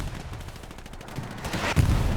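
Artillery shells landing in the online shooter game Hell Let Loose on the Omaha Beach map, a rumble of distant gunfire building into a heavier, closer blast near the end.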